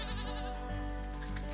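A goat bleats in a short, wavering cry, close and fairly quiet over a soft, steady background.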